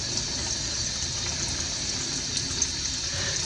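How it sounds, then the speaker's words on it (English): Hot tap water runs steadily over a rusty ball bearing that is being spun by hand, giving a constant close hiss and splash with no speech. "You're going to run that under the water"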